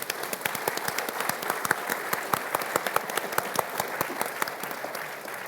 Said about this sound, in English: A round of applause for Yui Gang, please